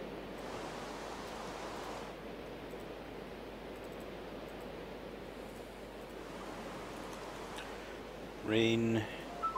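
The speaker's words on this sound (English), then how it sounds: "Rain" Steady rainfall in Minecraft, a broad, even hiss that runs throughout with little variation, ending in a short burst of other game sound.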